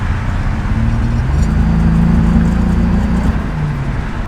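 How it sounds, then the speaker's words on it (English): A Toyota Supra's engine hums steadily from inside the cabin, a loud low drone with slight shifts in pitch as it drives along. "Damn, driving my new car."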